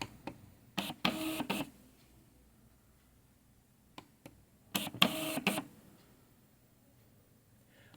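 An Xprinter XP-P210 receipt printer switching to receipt mode whirs in two short mechanical bursts separated by quiet, with a few faint clicks between, close up and without talk.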